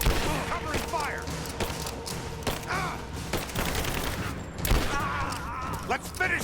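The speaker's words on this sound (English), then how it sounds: "Covering fire!" Covering gunfire in the video game Rise of the Tomb Raider, Survivor Mode: repeated sharp shots and bursts crackle at mid distance, with a heavier thump near the middle, while several voices shout over the firing.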